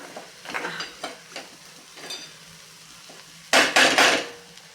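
Onions and dal sauté in a pan as a spatula stirs and scrapes through them, with soft scuffs and clinks, then a louder burst of sizzling and rattling near the end.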